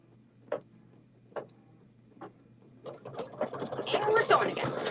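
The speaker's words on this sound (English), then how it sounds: "And we're sewing again." A sewing machine starts with a few spaced single ticks, then runs into a steady, fairly close stitching whir that grows louder toward the end.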